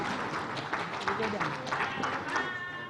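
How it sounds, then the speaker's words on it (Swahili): Audience applause after a speech at a Tanzanian press freedom day event, a steady wash of many hands clapping at moderate distance, continuous for the whole stretch with faint voices mixed in. "Makofi mengi sana."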